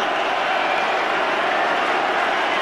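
A stadium crowd at a 2003 Rugby World Cup match between South Africa and Uruguay roars steadily, a loud, continuous wash of cheering and shouting with scattered clapping throughout.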